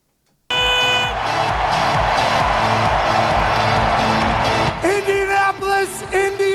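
An arena crowd roars and cheers as Pat McAfee hypes them up, a loud sustained wall of voices that gives way near the end to tonal buzzer-like horn blasts over the ongoing noise.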